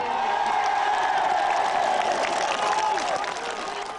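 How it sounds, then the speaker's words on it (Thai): A crowd of Burmese well-wishers greets Aung San Suu Kyi in Thailand with cheers and clapping, a thick continuous roar of voices and hands with a few raised shouts rising above it. "ได้เรียกเสียงโห่ร้องดีใจพร้อมเสียงปรบมือ"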